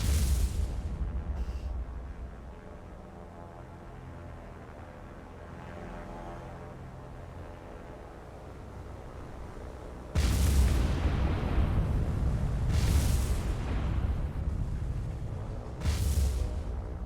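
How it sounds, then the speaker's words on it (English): Bombs blast ships in the naval warfare game War on the Sea during a carrier raid on a convoy, with a low rumbling backdrop broken by three heavy, booming explosions in the second half. "You know what I love these guys for? Bombing battleships."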